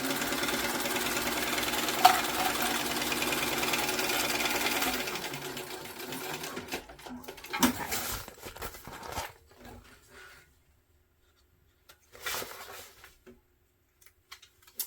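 Sewing machine basting fabric for a backpack: a steady mechanical run for about five seconds, then shorter stop-start bursts with quiet gaps in between, close and alone without talk.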